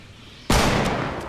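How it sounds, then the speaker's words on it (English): A single sniper rifle shot in Fortnite cracks sharply and loudly, then leaves a long, rumbling tail that fades slowly. "I don't know where I'm getting sniped from"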